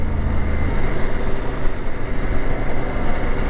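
A CFMOTO Ibex 800 adventure motorcycle engine pulls hard under acceleration with drive-by-wire throttle, a loud, dense, steady roar with rumbling low end and wind noise, and no voices.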